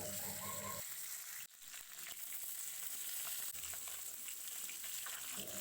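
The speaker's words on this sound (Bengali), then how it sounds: "আমি এই মাছগুলো দিয়ে এই যে এখন ভেজে নিচ্ছি" Fish fry in oil in a pan with a constant crackling sizzle, joined by a brief louder clatter and scrape partway through, close and fairly quiet with no talking.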